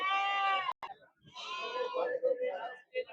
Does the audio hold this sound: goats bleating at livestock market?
yes